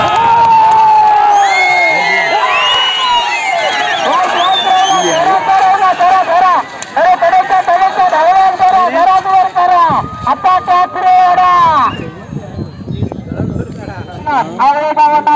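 A bullock cart race in a village in Sindhudurg, with a pair of bulls running as a large crowd cheers and shouts loudly nearby, excited voices and a commentator dominating over the rush of the race.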